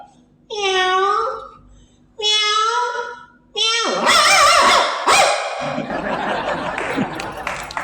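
A human voice imitates a cat, giving three drawn-out meows, followed by laughter and chatter.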